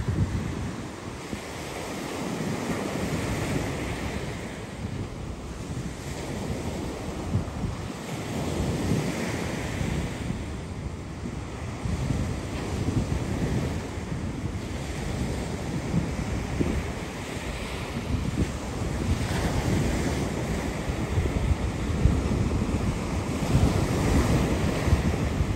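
Ocean waves break on Castelldefels beach near Barcelona, a continuous loud surf roar with swelling rushes and heavy wind buffeting the microphone, no talk.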